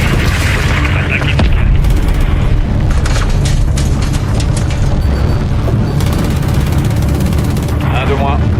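A fighter plane blows up in a loud, continuous roar of explosion and rumbling blasts during an action film battle, with deep booms throughout and voices talking over the din.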